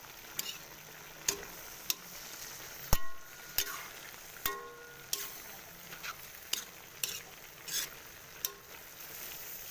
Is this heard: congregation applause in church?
no